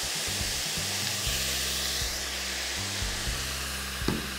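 Veal sizzling in olive oil in a pan, a dense, steady, loud hiss of frying with a low hum beneath and a brief stir near the end, no talk.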